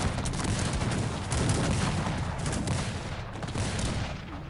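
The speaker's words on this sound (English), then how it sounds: "cannons are starting to shoot" Cannons fire across an Age of Empires-style real-time strategy battle, a dense, continuous barrage of overlapping booms and blasts rumbling loudly throughout with no pauses.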